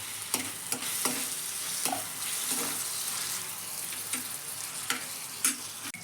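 Onion sautéing in a pan with ginger paste and tomatoes, a soft continuous sizzle close by, broken by repeated scraping stirs of a spoon, with no talking.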